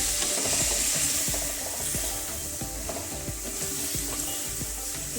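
Tomatoes with coriander powder and spices sizzle steadily in a pan over a low gas flame for a capsicum and potato dish, with soft rhythmic scraping of a spoon stirring throughout and no talk.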